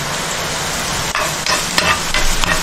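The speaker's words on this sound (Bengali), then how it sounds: "রসুনটা ভাজা গেছে" Chopped garlic fries in oil in a pan with chilli and onion, giving a loud, steady sizzle, with a few scraping stirs of a utensil breaking through partway.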